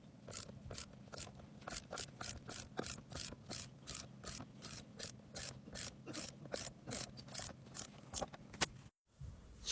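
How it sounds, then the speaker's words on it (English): Rapid, steady clicking of a torque wrench with a 17mm socket while splitting Kx65 engine cases, about two dozen evenly spaced ratchet clicks running close and clear before a brief stop. "Thinking I'm going to use the torque wrench for this one, because I think this ratchet might be too small"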